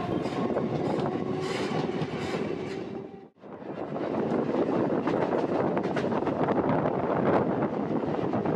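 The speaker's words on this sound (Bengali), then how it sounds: "যত এগোচ্ছে আমাদের এই ট্রেন তত তারকেশ্বরের কাছাকাছি আমাদের ট্রেন পৌঁছতে চলেছে বন্ধুরা।" A local train runs from Howrah toward Tarakeswar past the Sheoraphuli stretch, with a loud continuous rumble and rattle heard from on board. Wind buffets the microphone, and the sound drops out briefly in the middle before the roar resumes.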